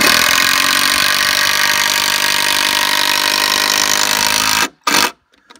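A power drill whines loudly and steadily for several seconds while drilling an outdoor deck, then cuts out, followed by a brief second burst and silence.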